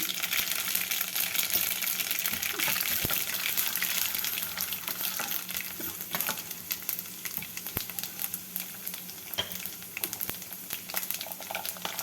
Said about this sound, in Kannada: ಈಗ ಇದಕ್ಕೆ ಒಂದು ಚಮಚ ಸಾಸಿವೆ ಮತ್ತು ಒಂದು ಚಮಚ ಕಡಲೆಬೇಳೆ ಎರಡು ಹಾಕ್ತಾ ಇದ್ದೀನಿ